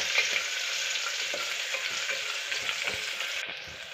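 Sliced onions and curry leaves fry in hot oil in a pan, making a steady, bright sizzle close by, broken by soft scrapes of stirring.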